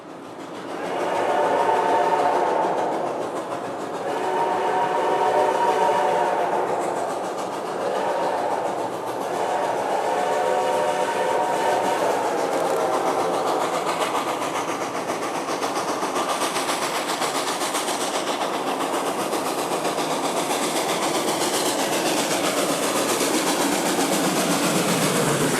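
Reading & Northern 425, a steam locomotive, runs through eastern Pennsylvania in winter. Loud rhythmic chuffing gives way to a sustained rumble and rolling wheel clatter as the train passes nearby, with no voices.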